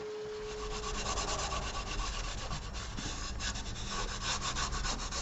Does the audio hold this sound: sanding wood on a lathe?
yes